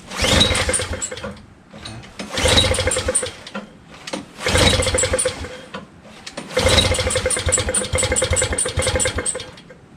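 The 4-stroke engine of a Honda Harmony HS520 single-stage snowblower is being started on choke and may be flooded. It sputters and catches in four separate bursts that each die back, loud and close, with no talking.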